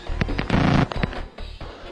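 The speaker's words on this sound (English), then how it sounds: "That caused the normal clicks of dialing to make more of a razzing sound like this." A modified rotary phone dial, its spring mechanism altered, spins fast so the clicks blur into a buzzing, raspy razz, loud and close, in short choppy bursts.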